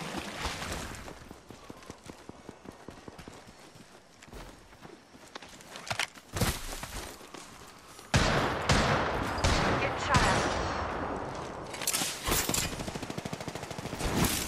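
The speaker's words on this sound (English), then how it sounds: "They're shooting at me." Sustained gunfire in Apex Legends, with bursts and rapid automatic shots that grow louder and denser partway through, mixed with footsteps and game effects in a busy firefight.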